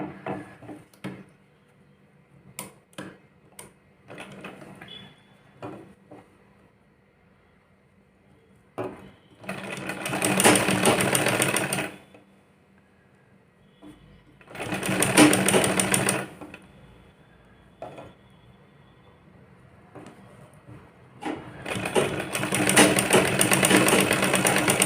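A sewing machine stitches petticoat fabric in three loud bursts of a few seconds each, separated by quiet handling clicks and taps of cloth.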